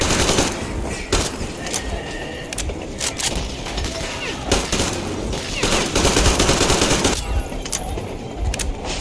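Heavy gunfire in the shooter game Metro Exodus: rapid automatic bursts and single shots crack nonstop with shattering impacts, dense and loud for the whole stretch, with shouted voices mixed in.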